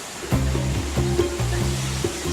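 A waterfall in Halawa Valley rushes in a steady, broad roar that fills the scene continuously, with music playing over the top.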